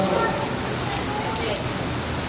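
Rain falling outside during a sermon, a steady, dense hiss of drops that fills the whole moment, with a voice faintly present underneath.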